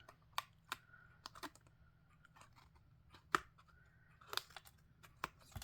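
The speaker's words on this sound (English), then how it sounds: "I'm just gonna trim off these excess rainbow pieces." Scissors trim away excess paper rainbow pieces in a papercraft card project, giving scattered, crisp snips and light paper rustles, close and fairly quiet, with no voices.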